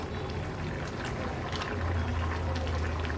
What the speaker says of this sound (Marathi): कालवणाला पण छान उकळी आली आहे.